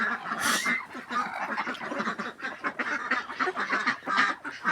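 Domestic ducks in a clean flock on straw bedding, a steady chorus of overlapping quacks and honks close by, busy and continuous throughout.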